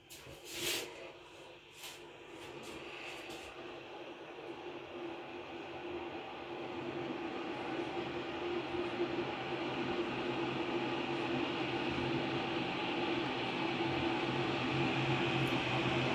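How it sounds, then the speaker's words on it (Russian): A Galaxy Line GL0338 electric kettle heats toward the boil with a steady broadband rushing hiss that slowly grows louder and fuller, after a few sharp clicks at the start. "Вот так вот чайник закипает."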